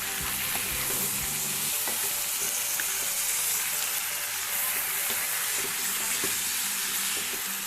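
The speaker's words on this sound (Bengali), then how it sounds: "মাংসটাকে খুব ভালো করে কষাতে হবে, মানে মাংসটাই শুধু কষাতে হবে, মানে একটু ভাজা ভাজা একটু কষবে ব্যাপারটা" Chicken for a Goan-style vindaloo fries in a pan over high flame, a loud, continuous close-up sizzle with occasional stirring scrapes and no talking.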